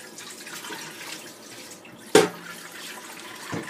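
Soft trickling water drains from rinsed quinoa quietly in the background, broken by one sharp knock or clatter partway through and a fainter tap near the end.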